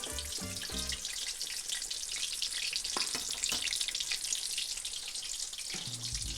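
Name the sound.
spices frying in hot oil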